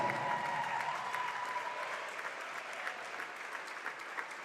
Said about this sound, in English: let's have one last large round of applause for the Tufts University women's basketball class of 2018.